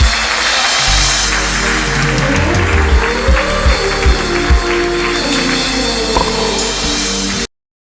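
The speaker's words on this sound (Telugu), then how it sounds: "రెండు చేతులు జోడించి చప్పట్లు కొట్టి ప్రభువుని కనపరుద్దాం" A church congregation claps hands together in praise, a loud, steady crowd clapping filling the hall with some rhythmic pulses, no speech over it, ending abruptly.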